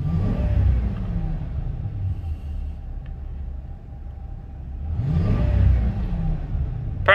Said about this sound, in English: Powerful engine, very nice idle down.